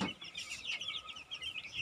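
Chickens in a new poultry house cluck and chirp steadily, a dense overlapping chorus of many birds heard at moderate distance with no talk.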